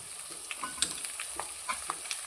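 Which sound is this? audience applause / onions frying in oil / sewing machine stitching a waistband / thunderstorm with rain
onions frying in oil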